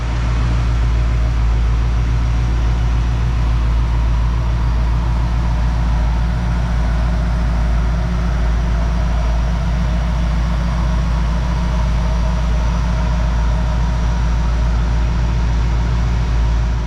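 A 1969 Plymouth Fury III's engine idles loudly and evenly, a deep, steady rumble with a constant low throb close by and no pauses.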